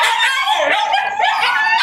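Vocal, high-drive dogs bark and howl close by, a loud, continuous mix of yelps and drawn-out howls with no pause.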